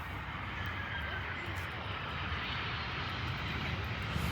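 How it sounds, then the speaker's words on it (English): An EasyJet airliner coming in to land roars steadily overhead, its engine noise a continuous broad rumble that holds level for several seconds with no voices over it. "EasyJet for landing."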